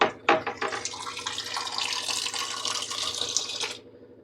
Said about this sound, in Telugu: దాంట్లోనే వాటర్ వేసేస్తున్నాను.